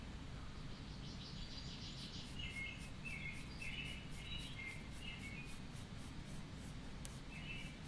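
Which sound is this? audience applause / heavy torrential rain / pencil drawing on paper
pencil drawing on paper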